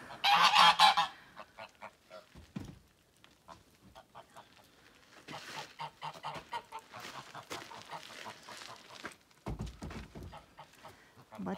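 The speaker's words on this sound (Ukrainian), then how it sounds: "Гусю, привіт." A loud, close goose honk blares at the start, followed by quieter honks and clucks mixed with a person talking nearby.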